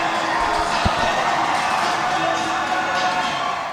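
A packed college basketball arena at a USA South men's tournament game rumbles with a loud, continuous crowd roar before tip-off, with one sharp low thump near the start.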